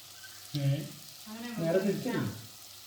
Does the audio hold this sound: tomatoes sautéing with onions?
yes